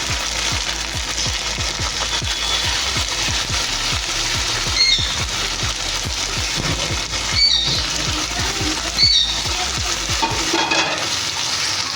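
Ground spice paste, dry-roasted and mixed with water, fries in a pan with steady sizzling and repeated scraping, clacking stirs throughout, loud and close with no voices.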